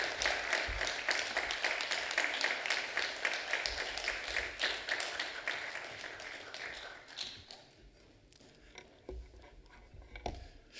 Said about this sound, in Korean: 목사님 나올 때 박수로 한번 여러분 환영하시겠습니다